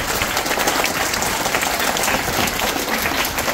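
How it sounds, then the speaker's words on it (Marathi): A crowd at a village birthday celebration claps loudly, a dense and steady burst of applause that lasts the whole stretch with no talking over it. "त्यांच्यासाठी आपण सर्वांनी जोरदार टाळ्या वाजवायच्या"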